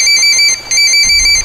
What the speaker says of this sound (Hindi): उनका फोन बज उठा